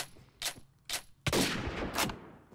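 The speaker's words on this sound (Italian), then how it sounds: "Come fai a sparare con sto schifo, Steph?" Gunfire in the Fortnite video game: two sharp single shots a half-second apart, then a louder, denser burst of rapid shots that fills the rest, all close and without talk.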